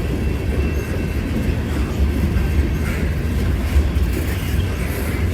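A train rolls past on rails at Parma, a steady, loud, broadband rumble of wheels and railcars with faint clicks, continuous throughout with no voices.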